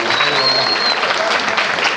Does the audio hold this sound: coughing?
no